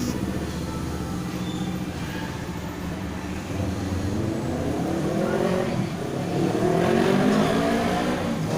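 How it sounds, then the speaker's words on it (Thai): Steady road traffic beside a night market, engines rumbling and a vehicle revving up as it passes nearby, building in loudness toward the end. "เสียงรถเยอะเลย"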